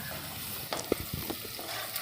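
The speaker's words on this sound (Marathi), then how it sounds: "कांदा चांगला गोल्डन कलर येईपर्यंत भाजून घ्यायचा" Chopped onion with curry leaves and a pinch of asafoetida frying in a pan, giving a soft, steady sizzle broken by a few quick stirring scrapes near the middle.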